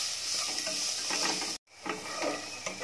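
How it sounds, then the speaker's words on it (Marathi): Finely chopped onion fries in two spoons of hot oil and is stirred for a Konkani-style prawn curry. A steady close-up sizzle with scraping stir strokes breaks off briefly, then carries on. "तेल तापलंय, त्यामध्ये मी बारीक चिरून 1 कांदा टाकतेय। आता हा चांगला परत परतून घ्यायचा आहे।"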